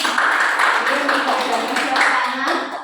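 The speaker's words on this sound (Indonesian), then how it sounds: "boleh saya minta tepuk tangannya sedikit" A small group claps hands together during a teachers' mentoring session at an elementary school, a steady patter of applause mixed with voices and room chatter, close and moderately loud.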